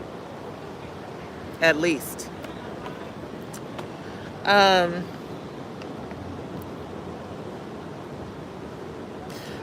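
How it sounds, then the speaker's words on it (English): Steady, broadband wash of ocean surf at a beach runs through the whole stretch as a soft, continuous background roar, with two short bursts of a person talking over it. "I hope that you can hear the ocean in the background"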